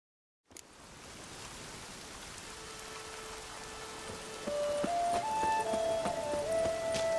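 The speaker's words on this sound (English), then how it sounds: "Maybe we needed a spot of rain." Steady rain hisses in the Witcher 3: Wild Hunt video game, a broad, even wash that swells slightly louder partway through, with faint tonal game music notes drifting over it.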